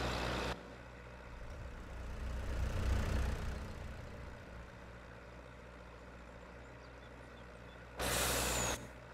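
A tractor in Farming Simulator 22 gives a steady low engine drone, with sharp bursts of air hiss at the start and again near the end.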